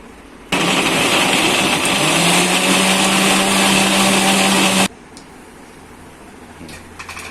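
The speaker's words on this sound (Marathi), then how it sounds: "हे आपलं मिक्सर वाटून झालंय." A kitchen mixer grinder blends raw mango into a thick paste for a curry, roaring loudly and steadily for about four seconds with a rising whine, then cutting off abruptly to quiet room noise.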